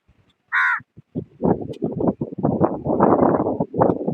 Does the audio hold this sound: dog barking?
no